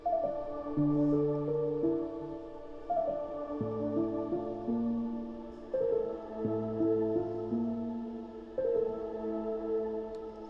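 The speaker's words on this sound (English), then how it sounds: "the piano and the pad, and it just sounds like this." Soft sustained piano chords layered over a warm pad, changing every couple of seconds in a calm repeating loop with no other instruments.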